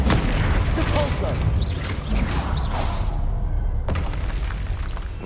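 A Depulsor spell cast in the video game Hogwarts Legacy bursts out as dense booming, whooshing blasts over continuous battle noise, loud and close, with a sharp cut and a fresh surge near the end.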